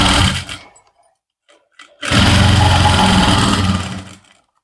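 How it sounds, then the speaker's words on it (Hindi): A sewing machine stitches trouser fabric in two loud bursts, a short run that trails off and then a longer steady run of about two seconds, with a near-silent pause between them. "इस तरह से ये मैंने सिलाई लगा दी है।"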